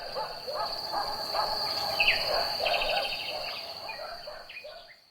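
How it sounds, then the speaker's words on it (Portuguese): Several birds call and chirp in varied phrases over a constant high insect trill, fairly quiet and with no voices. "Conseguimos escutar sons de pássaros, com cantos diversos, de grilos e de cachorros."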